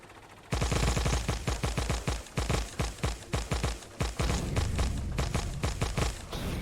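Rapid bursts of gunfire in the video game Factorio hammer away in close succession, loud booming shots with a heavy low thump, continuing throughout.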